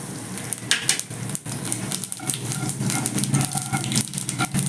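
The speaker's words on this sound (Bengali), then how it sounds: "এবার এই মাছ ভাজা তেলের মধ্যে কালো জিরে ফোড়ন দিয়ে দিলাম" Nigella seeds tempering in hot oil left from frying parshe fish, a moderate crackling sizzle with uneven pops and bursts, no talking.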